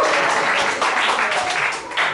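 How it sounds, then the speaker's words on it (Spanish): Audience applauding the drummer at a children's music concert, a loud, dense burst of clapping from a crowd, continuous and close for a couple of seconds. "Un aplauso a la batería que siempre."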